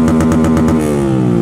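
A motorcycle engine runs loud and close for a moment, a steady buzzing drone with a faint pulsing rhythm and a slight drop in pitch, with no voices over it.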